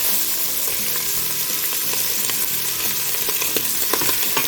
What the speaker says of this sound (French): Toujours en remuant pour que ça ne brûle pas les condiments.